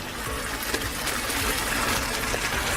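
Water pours into a pan on a grill set up for cooking snapper, a continuous splashing gush close by, steady and fairly loud with no talk over it.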